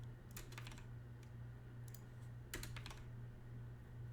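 Keys clatter on a computer keyboard in a few quick, close bursts with short gaps between, over a faint steady hum.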